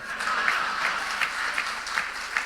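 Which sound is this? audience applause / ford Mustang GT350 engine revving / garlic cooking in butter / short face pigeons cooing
audience applause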